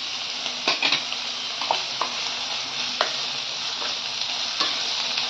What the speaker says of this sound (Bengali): কাঁচা গন্ধটা যতক্ষণ না যায় আমি একটু ভেজে নেব ভালো করে।